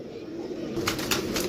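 Lakha pigeons coo softly from close by, a low murmuring coo repeated in short bursts against faint background noise.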